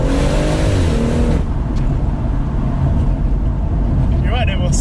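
BMW M140i fitted with a Quaife limited-slip differential, driving and accelerating through bends on a road; loud steady engine drone throughout, with people talking inside the car over it.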